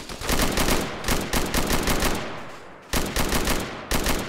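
A vehicle-mounted machine gun fires in Arma 3, sustained rapid bursts with brief pauses between volleys, loud and close with no talking.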